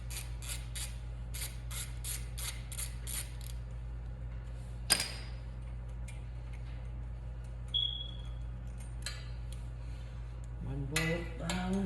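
Exhaust header bolts being loosened on a 2020 Yamaha MT-09, with a quick run of ratchet clicks, a sharp metallic clank, then a few more clicks and scrapes over a low steady hum.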